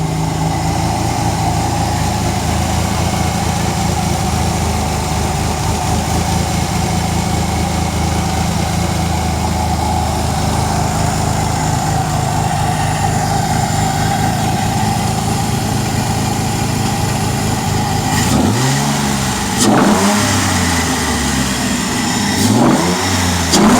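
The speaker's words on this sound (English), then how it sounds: "I'm gonna just show you the running engine for a little bit" Ford Taurus SHO engine running at a steady loud idle, then revved in several quick sharp blips near the end.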